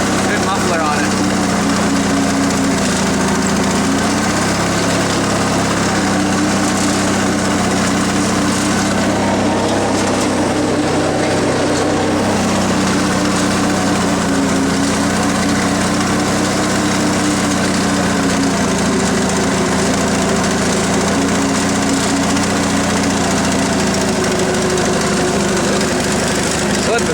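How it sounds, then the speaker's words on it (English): An old Yardman riding tractor with a good muffler runs steadily and fairly quietly, its engine note a constant hum throughout without much change. "Nice thing about this tractor is it's quiet too."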